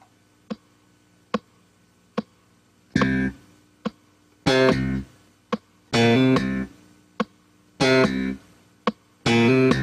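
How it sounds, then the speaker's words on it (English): A slap bass plays a short-note line, with crisp percussive thumps and brief muted notes alternating with sustained plucked tones in a steady rhythm, close and clear. "in example 8 we're going to play the first bar of a bass line"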